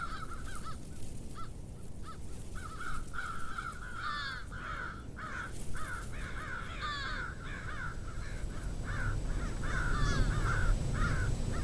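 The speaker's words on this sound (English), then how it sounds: "This noisy crow, perched in between two roughlegs, bellows out its apparent disapproval." A crow perched among rough-legged hawks in Wisconsin caws repeatedly in harsh, rhythmic bursts, fairly close and clear over a faint outdoor background hiss.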